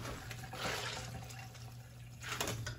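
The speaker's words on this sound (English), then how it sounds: "now we're gonna go ahead and squeeze all the excess water out of there" Wet squelching and trickling water as excess water is squeezed from rinsed pork chitterlings, moderately close, with a couple of louder bursts of liquid splashing and dripping amid a low steady hum.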